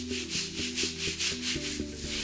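Scrubbing a Polytek floor, a rhythmic back-and-forth rubbing with repeated strokes about every quarter second, close and fairly clear, with no talking.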